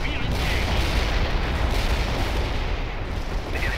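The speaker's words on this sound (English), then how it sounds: "Anti-tank strike is inbound." Anti-tank airstrike explosions in the World in Conflict video game form a dense, continuous roar of blasts and rumbling artillery-like fire, loud and sustained throughout, with no talk.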